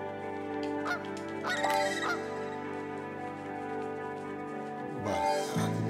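Seagulls in the Dune Sea game give honking, squawking calls in short bursts, first several in quick succession and another cluster near the end, over a steady sustained background tone.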